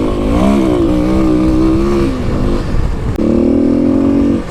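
A Kawasaki KLX300 dirt bike rides across whooped-out open desert terrain, its single-cylinder engine loud and close, revving up, dipping briefly, then pulling hard again with no talk.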